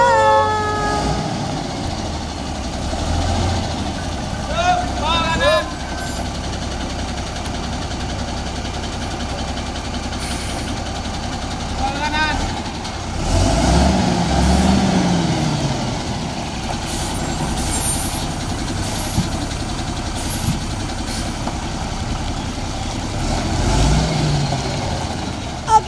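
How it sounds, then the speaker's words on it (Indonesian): A fire department ladder truck from the Batu city fire and rescue service drives along, its heavy engine rumbling and idling with bursts of louder revving and air-brake hiss, with only a little talking. "Ikuti perjalanan kita naik mobil tangga milik pemadam kebakaran dari Kota Batu."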